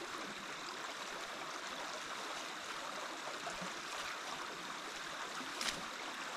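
Flowing water from a stream along a wild hiking trail in the Sierra del León, Uruguay, a steady, soft rushing murmur that continues evenly for several seconds with no voices over it.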